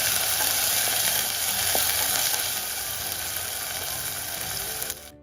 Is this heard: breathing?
no